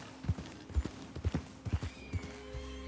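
Horse hooves clip-clop in Red Dead Redemption 2, a steady run of about a dozen close, distinct hoof strikes in an even walking rhythm over a faint game ambience.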